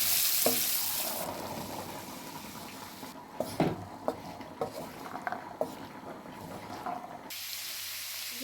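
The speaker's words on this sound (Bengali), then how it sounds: "এখানে আমি সানা বিরানোর জন্য পেঁয়াজ টমেটো সব দিয়ে নিলাম, দিয়ে ভেজে নিলাম" Onions and tomatoes frying in a pan produce a soft, running sizzle, broken by a series of sharp clacks and scrapes from a utensil stirring against the pan; no one speaks.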